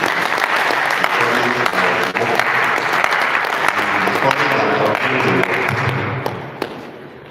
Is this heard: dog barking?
no